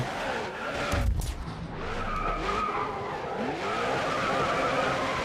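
A drift car spinning out in GRID Autosport, with a loud tire squeal and skid mid-spin and a sharp scrape, followed by engine revs sweeping up and down as the car recovers, with no talking.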